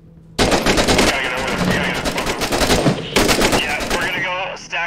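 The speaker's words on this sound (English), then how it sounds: "Oh, dude, they're shooting." Enemy gunfire in the video game Six Days in Fallujah: loud, dense bursts of rapid automatic fire that run almost without a break, with a short lull before another heavy volley.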